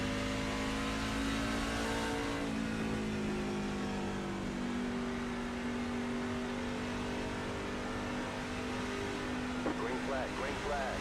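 Chevrolet Silverado trucks race at Phoenix International Raceway in the iRacing game, a steady droning engine with rising and falling revs held under the pack, continuous and fairly loud throughout.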